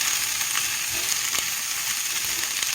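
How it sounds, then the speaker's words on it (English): Plenty of onion fries in a shallow pan with a bright, constant sizzle, and a few soft clicks of stirring sound close up. "So we're just gonna stir it up a little bit."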